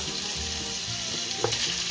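Skirt steak sizzles steadily in hot oil, a close, even frying hiss with a faint stir or shift of the meat near the end.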